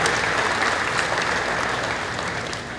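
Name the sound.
audience applause at livestock auction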